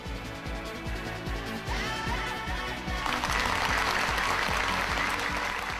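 Fans applaud in a cinema venue at a long-awaited 2002 screening in Japan, a sustained crowd of clapping that grows fuller and louder partway through, with some distinct nearer claps standing out.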